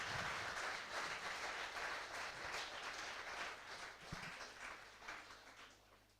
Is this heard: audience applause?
yes